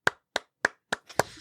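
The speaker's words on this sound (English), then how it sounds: "How about a round of applause?" A single person claps sharply five times in a slow, evenly spaced rhythm, close and isolated against silence.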